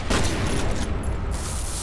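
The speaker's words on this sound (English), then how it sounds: "Why is this building exploding?" A building blows apart in a video game, a dense burst of rumbling explosions and crackling debris that rolls on at moderate level, without any voices.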